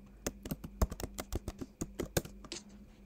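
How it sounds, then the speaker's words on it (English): A password is typed on a computer keyboard, a quick burst of light, irregular key clicks at close range in a quiet room. "type your password"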